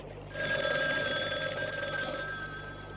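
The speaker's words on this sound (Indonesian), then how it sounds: "Aduh, siapa lagi yang telepon?" A telephone rings with a steady electronic trill that lasts a few seconds, close and clear, with no voices over it.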